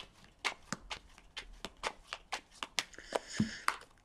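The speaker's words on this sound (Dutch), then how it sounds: "Dus dan de kaarten schudden om te kijken wat deze week voor jou gaat brengen." Tarot cards being shuffled by hand, a close series of soft riffling slaps and flutters in an irregular rhythm, fairly quiet, with no talking.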